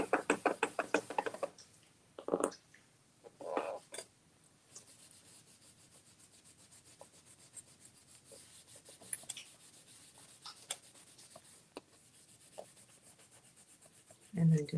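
Hand rubbing on an etched nativity piece, a dry scraping rasp that comes in short bursts early on with a few knocks, then fades to faint, sparse scratching.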